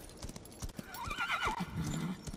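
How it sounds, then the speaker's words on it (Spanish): A horse in the Darksiders 3 video game neighs in a long, wavering whinny over steady clip-clopping hooves, fairly close and without talk. "Un lindo caballo."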